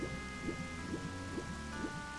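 Soft, steady rain falls in a video game, a low even patter with faint rhythmic pulses over a constant tonal background, quiet and continuous throughout.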